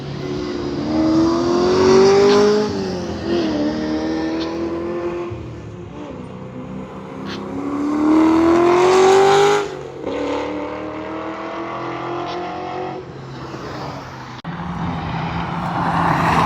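Race cars lap Atlanta Motorsports Park in a time attack session, engines loud and near, revving up through the gears in repeated rising sweeps, easing off, then accelerating again.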